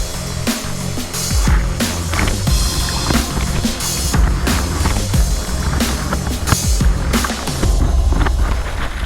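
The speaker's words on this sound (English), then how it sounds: "A first multi-stepped waterfall." A kayak drops down a multi-stepped waterfall on whitewater in Raundalen, with loud, continuous rushing water broken by repeated heavy splashes and thumps as the boat hits each step.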